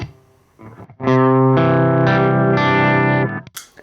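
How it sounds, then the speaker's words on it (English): An electric guitar played through a heavily saturated, overdriven cassette-tape saturation pedal, loud sustained chords with a gritty, compressed distorted tone after a few quieter plucks. "You can hear that compressing and starting to clip and overdriving"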